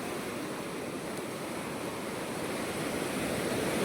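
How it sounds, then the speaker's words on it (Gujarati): Floodwater rushing through a village in Datrdi after heavy rain, heard as a steady, loud broadband roar of flowing water with no pauses or voices, growing slightly stronger toward the end. "હજી પાણી વધમાં છે થોડું થોડું."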